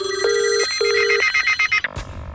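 A telephone rings with a loud electronic bell in repeated bursts, then cuts off abruptly near the end, followed by a brief noisy shift.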